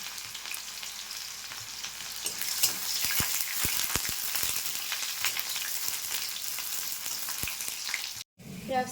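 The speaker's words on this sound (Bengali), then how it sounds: "পেঁয়াজ কুচি দিয়ে দেবো।" Chopped onion sizzles in hot oil with cardamom, cinnamon and cloves, a steady crackling fry close up, punctuated by sharp spoon-stirring clicks and a brief drop near the end.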